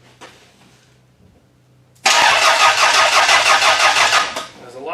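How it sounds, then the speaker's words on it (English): After a quiet stretch, a car engine turns over and fires, running with a loud, close, pulsing roar for about two seconds before easing off. "Will it turn over now?"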